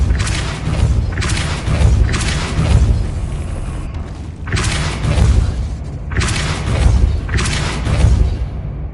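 Depulso spell effect from the Hogwarts Legacy video game: three loud, booming, whooshing bursts with deep thumps, each swelling and fading over about a second, evenly spaced with no voices.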